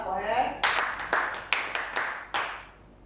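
An audience claps briefly at a photography workshop session, a burst of several sharp hand claps that trail off within a few seconds, fairly close.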